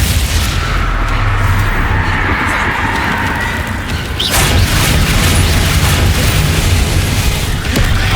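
Spell blasts and explosions in the Hogwarts Legacy video game, dense continuous booms and bursts under game music and rumble, with a voice calling out spell names throughout.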